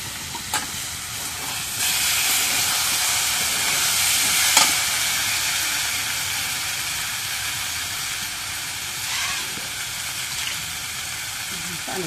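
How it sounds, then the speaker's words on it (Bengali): Sweet pumpkin curry sizzling in a pan, with water splashed in, a loud steady hiss and bubbling close by, punctuated by a few sharp utensil taps and stirring scrapes. "এখন মিষ্টি কুমড়াটা কষানি হয়েছে,"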